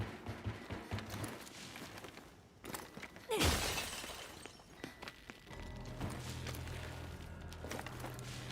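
Glass shatters once in a video game during a crossbow fight, a bright crash with a scattering tail near the middle, set among soft thuds and game ambience, with a low steady hum afterward.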